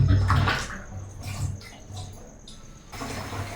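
Tap water runs and splashes while a whole chicken is rinsed by hand, an uneven gushing that swells and drops in several surges at close range.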